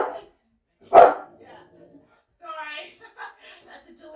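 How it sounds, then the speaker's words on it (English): A household dog gives one sharp, loud bark close by at a delivery person's arrival, then soft whimpers follow and a person talks afterward. "That's a delivery guy who just came here and the dog is now barking."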